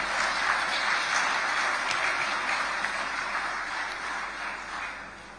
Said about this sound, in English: can we give all of our sponsors a resounding applause for all of them?